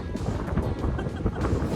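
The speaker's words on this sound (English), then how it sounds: "it's a little windy here" Gusty wind buffets the microphone, a loud continuous roar with low thumping surges throughout.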